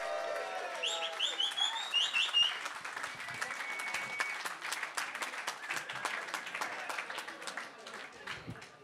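A crowd at a live electronic music night applauds a performer after a set on a Korg Electribe SX and a Korg Kaoss Pad: sustained clapping with a few whistles early on while a voice speaks over it.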